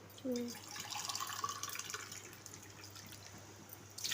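Water runs into a pot of coconut milk while rice is being cooked, a soft steady trickle with a few light drips, faint and close in a quiet kitchen.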